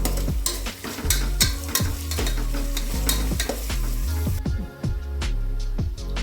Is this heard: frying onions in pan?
yes